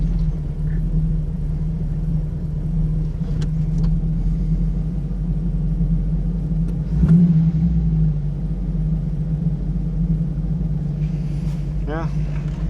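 A 1937 Buick street rod fitted with a BluePrint Engines 350 crate engine idles and rolls off in gear, a steady low rumble heard from inside the car, with a small bump midway and no talking.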